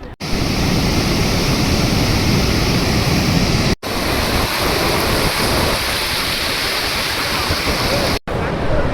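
Floodwater pours over the Marikanive dam on the Vedavathi river in a loud, continuous, close roar that is broken by two brief cuts.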